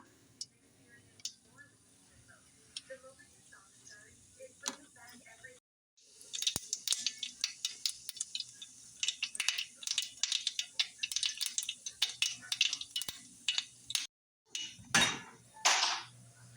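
Mustard seeds heated in hot oil in a pan begin popping sparsely, then burst into dense, rapid crackling spatters, close and sharp; a voice talks faintly early on.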